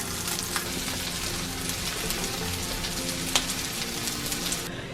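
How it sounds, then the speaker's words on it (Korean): Egg-coated fatsia shoot skewers pan-fry in oil, giving a dense, steady close sizzle with scattered crackles and one sharper pop, and no one talking. "뒷면은 노릇노릇하게 익히고 앞면은 계란만 입을, 익힐 정도로 살짝만 익혀주시면 된답니다"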